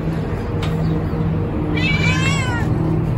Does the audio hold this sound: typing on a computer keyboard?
no